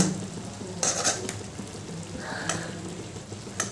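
A spoon stirs ghee and garam masala through a spicy prawn curry in a pan, giving soft scraping and a low sizzle with a few brighter clatters of the utensil on the metal.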